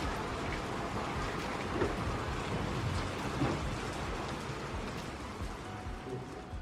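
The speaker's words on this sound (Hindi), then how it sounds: "और बारिश देखें जी माशाल्लाह हो रही है और हो रही है।" Heavy rain pours steadily on a hill-station outing, a dense continuous hiss with occasional low rumbles that may be distant thunder, close and loud throughout with no voices.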